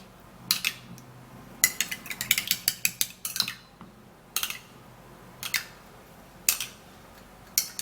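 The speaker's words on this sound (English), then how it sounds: "So you have to then stir the mix together" An anti-ageing skin mix being stirred by hand, with sharp irregular clicks and scrapes of a utensil against a bowl, close and clear over a quiet background.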